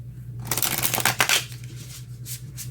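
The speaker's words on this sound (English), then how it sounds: "let's get a few more cards" Tarot cards riffle and slap together in a quick, close burst of shuffling, then settle into faint handling noises, with no talk.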